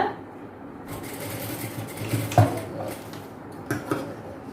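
A sewing machine stitches elastic onto palazzo pants in a tailoring class, giving a steady close whir with a few clicks and knocks from handling the fabric and machine.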